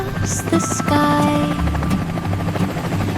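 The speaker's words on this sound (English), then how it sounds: "A little helicopter flew so high and bounced on clouds across the sky." A cartoon helicopter sound effect in an animated nursery rhyme, a steady buzzing rotor chop running throughout under bright music, loud and close.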